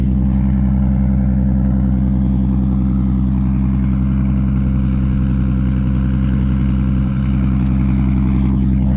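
A modified RB25DET engine in a Nissan S13 Silvia rumbles steadily nearby with a deep, throaty drone, holding a fairly even idle with slight swells rather than sharp revs.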